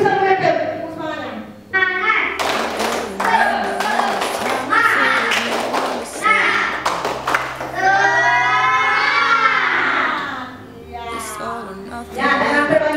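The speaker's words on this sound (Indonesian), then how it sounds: "Kita yel-yel tepuk semangat." Schoolchildren in a classroom perform a rhythmic tepuk semangat clapping chant, with patterned hand claps mixed with their voices calling out together and a teacher speaking.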